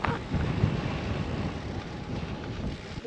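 Headwind buffeting a microphone during a gravel bike stage race in Emporia, Kansas, a low rumbling gusty roar that is strongest at the start and then eases slightly, with no talk.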